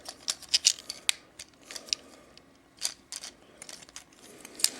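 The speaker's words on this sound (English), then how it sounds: "Take these wheels here, fold them back like that." Plastic wheels on a deluxe Transformers Revenge of the Fallen Ratchet toy robot fold back with a quick series of sharp, close clicks and snaps, loud and irregular with brief pauses, no talking.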